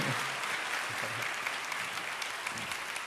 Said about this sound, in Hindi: जोरदार ताली चाहिए।